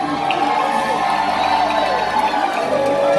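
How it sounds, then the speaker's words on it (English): A large arena audience at a Medieval Times tournament show in Atlanta cheers and shouts in a dense, sustained roar, with voices mixed in. "My lords, my ladies, raise a cheer for your queens of the"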